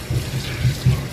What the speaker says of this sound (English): we'll rinse it till the water runs pretty clear